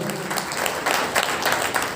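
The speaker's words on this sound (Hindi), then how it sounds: "जोरदार तालियां प्लीज।" Loud, dense applause from an audience at a Hindi-language event, a steady wash of many hands clapping close by for the full two seconds.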